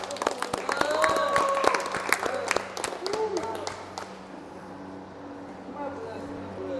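Scattered classroom applause for a classmate in a mechanical engineering lathe-machining class, uneven clapping over a low machine hum, strongest in the first few seconds and fading out, with some voices underneath.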